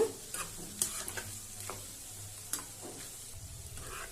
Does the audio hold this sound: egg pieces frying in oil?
yes